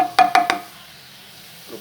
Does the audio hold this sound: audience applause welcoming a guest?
no